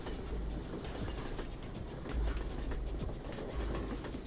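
Train rolling along in Hunt Down The Freeman, a steady rumbling drone with faint rhythmic wheel clacks and low thumps, continuous and fairly close, no speech.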